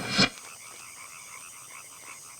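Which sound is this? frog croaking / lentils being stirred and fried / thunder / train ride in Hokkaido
frog croaking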